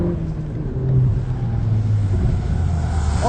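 Audi S1 evo driving a snowy track: a steady low engine drone that swells briefly near one second, then holds an even rumble, close and continuous with no voices.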